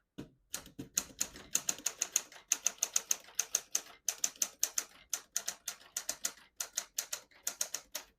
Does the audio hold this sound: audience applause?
no